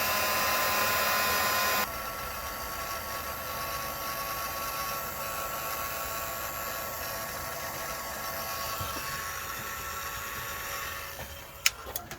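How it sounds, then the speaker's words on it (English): Heat gun melting solder on a cold day outdoors, a steady close blowing roar with a slight drop in level after about two seconds and a faint click near the end. "My heat gun's not working the greatest"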